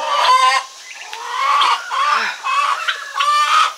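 Turkeys packed into a small farm coop, clucking and squawking in loud, close bursts that come in uneven waves with short pauses between, with no voices over them.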